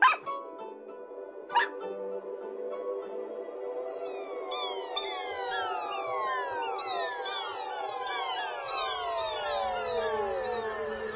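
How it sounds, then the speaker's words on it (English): A cartoon dog barks in a children's show, with a few short sharp yips near the start, then a run of sliding, descending tones that carry on steadily to the end. "Little dog Fido."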